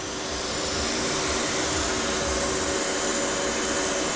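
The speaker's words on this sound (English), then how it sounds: "As soon as I know that the crank's grinding all the way round, I'll then move the crank to get the radius cleaned up." A crankshaft grinding machine grinds a crank journal and radius, a steady close whirring machine roar that holds evenly with no talk over it.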